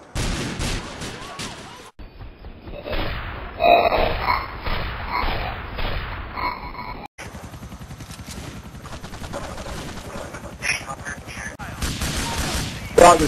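Gunfire in GTA 4 gameplay, bursts of shots and rapid firing rattle through a busy mix of game sounds, loud and close, with some talking over it.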